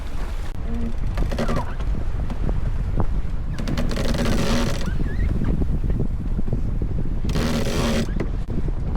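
The genoa is rolled in on a sailboat while sailing solo off the Norwegian coast, repeated bursts of line and furler ratcheting over constant wind and water noise, close and moderately loud.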